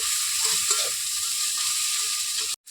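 Prawns frying with onion and a ginger-garlic paste in a pan, being stirred: a steady, close hiss of sizzling oil broken by soft scraping and clinking stirs, ending in a sudden cutoff, with no talk.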